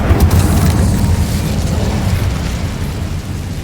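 Incendio fire spell blasting in Hogwarts Legacy, a loud booming burst that starts abruptly and rolls into a deep, fading roar with no talking over it.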